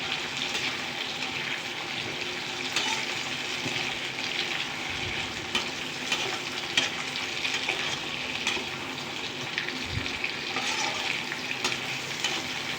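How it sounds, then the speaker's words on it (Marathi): Ghee-based sweet dish for fasting frying in a pan, a continuous close sizzle with intermittent stirring scrapes and clinks, steady and unbroken, no voices. "तीन ते चार चमचे तूप घालायचं आणि आता हे परतायला"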